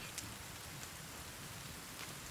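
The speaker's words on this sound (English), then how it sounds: "Oh, now it's raining." Rain in the survival game The Forest, a dense, steady hiss of falling rain with occasional droplet ticks, quiet and continuous with no voices.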